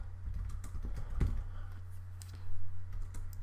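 Light, quiet typing on a computer keyboard while entering a screen tip in Excel, with scattered soft key clicks over a low background hum.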